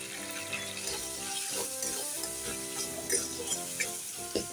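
Papad and bottle gourd fry in a pan as asafoetida goes in, a steady close sizzle with scattered crackles and scraping stirs, no voices over it.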